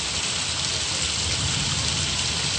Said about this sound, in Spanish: Tormentita con lluvia.